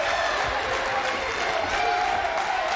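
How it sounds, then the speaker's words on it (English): Basketball crowd at a college men's tournament game roars and applauds in a sustained wave of cheering after a big shot, filling the arena at a steady loud level. "that's a big time shot by Nate Bailey, trying to get the crowd fired up"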